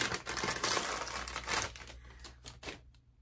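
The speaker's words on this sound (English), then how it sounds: "Excuse the crinkling." Plastic packaging is torn open and crinkled up close, a dense run of crackling rustles that thins into scattered sharp crinkles toward the end, with no talk over it.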